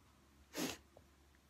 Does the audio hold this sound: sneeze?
yes